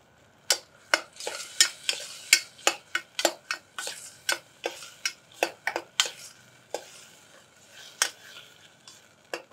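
Millet rice being stirred in a pan with salt and turmeric, a spoon scraping in a steady series of sharp, close taps and scrapes over a faint sizzle, with no talking.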